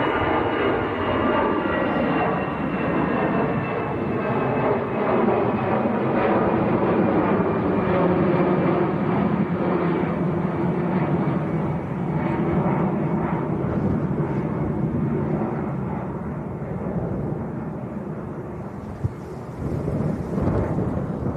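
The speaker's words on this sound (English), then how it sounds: "this is the EasyJet flight to Belfast. Airbus A320." EasyJet Airbus A320 jet roaring loud and sustained at Manchester Airport on a windy day, a broad continuous rumble that holds steady for about twenty seconds before easing slightly, with no one talking.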